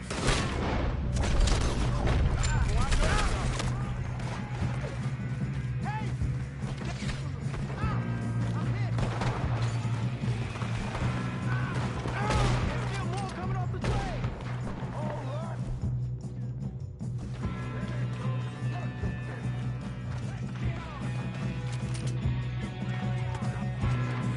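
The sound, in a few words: gunfire in Red Dead Redemption 2 video game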